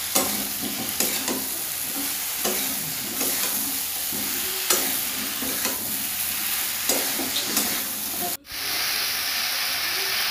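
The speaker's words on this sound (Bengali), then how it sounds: "মশলার সাথে সবজিগুলো ভালো করে কষিয়ে নেব।" Fried vegetables stirred into a pan of spice masala and melted tomato, with a steady sizzle and hiss broken by repeated scraping stirs of a spoon, close and continuous, cutting out briefly near the end.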